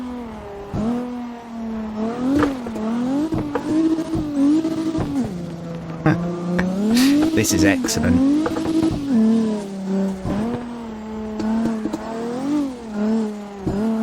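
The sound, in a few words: drift car engine revving and tires squealing, video game CarX Drift Racing Online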